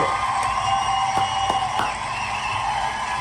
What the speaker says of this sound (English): You notice how the applause went down?